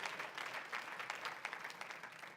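A church congregation claps for a short, busy burst of applause, distant and quiet, with individual claps standing out in an uneven patter.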